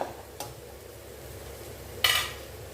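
Onions sautéed with salt in a pan, a quiet sizzle under two distinct spatula clinks against the metal, the second louder, heard up close without speech.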